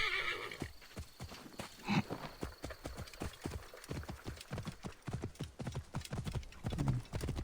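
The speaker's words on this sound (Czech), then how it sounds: "Jak vypadá ten náš nový kůň?" A horse in the video game Assassin's Creed Origins trots with steady, rhythmic hoofbeats, and a couple of neighs break through; the sound is fairly quiet throughout.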